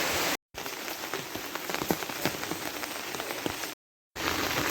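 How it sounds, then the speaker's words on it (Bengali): Steady, continuous rain on an all-day rainy day in Dhobaura, a dense unbroken hiss of falling drops with sharper patters, cut by two brief gaps of silence. "একটানা একটা বৃষ্টি আছে না, যে ঝিম ঝিম ঝিম ঝিম করে হইতে আছে"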